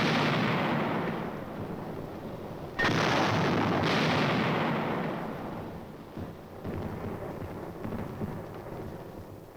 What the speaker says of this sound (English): Tanks coordinate their fire in the assault. Surface and air bursts clear the way for the riflemen.